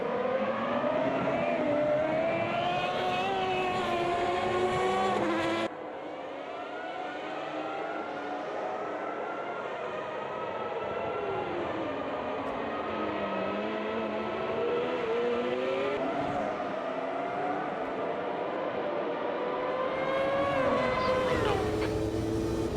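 Simulated 1995 Formula 1 cars in a racing video game, engines loud and continuous with rising and falling pitch through gear changes and braking, several cars close together.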